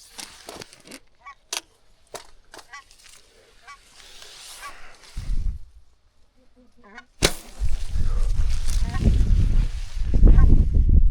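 A bow fires an arrow at geese during a hunt, a single sharp snap amid scattered honking, followed by rushing wind and movement noise close to the listener.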